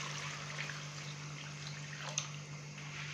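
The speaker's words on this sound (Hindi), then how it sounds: "तो यहाँ पे तकरीबन मैंने 2 से 3 गिलास पानी डाला है।" Water from two or three glasses is poured into a pot of fried beef for a daal mash gosht curry, a soft continuous splashing trickle heard close by over a steady low hum, with no talking.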